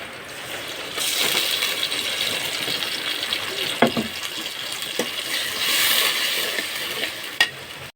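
Spices go into a pan of fried onions for beef biryani, with a steady sizzle of hot oil, a few sharp clinks and scrapes of a spoon against the pot, and no talking.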